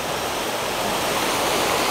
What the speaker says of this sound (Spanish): Aquí se junta este río con este río Sayulapa.